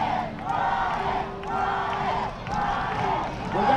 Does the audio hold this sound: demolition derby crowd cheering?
yes